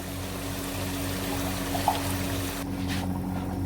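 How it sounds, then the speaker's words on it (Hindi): Water pouring or trickling into a cooking pot in preparation for boiling rice for a chicken chana pulao, a steady liquid flow over a constant low hum, no talking. "अभी मैं चावलों के लिए पानी लगा लूँगा।"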